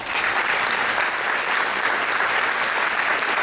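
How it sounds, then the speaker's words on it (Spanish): Dense, sustained audience applause for panel speakers at a legal conference, loud and even from start to finish with no voices on top. "Despedimos con este fortísimo aplauso entonces a los doctores Fernando García Puyés, a Héctor Pozo Gogland y a Oscar Cuadros."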